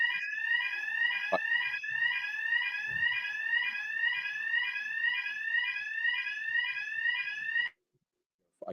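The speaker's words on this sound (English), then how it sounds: "I can hear a fire alarm." A fire alarm rings steadily and loudly throughout, a repeating warbling electronic tone that runs without a break, then cuts off abruptly near the end, leaving silence.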